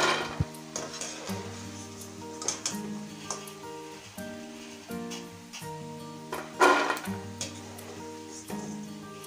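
Peanut pakoras frying in hot oil, a soft steady sizzle broken by clinks and scrapes of a utensil against the pan, with occasional louder stirring bursts.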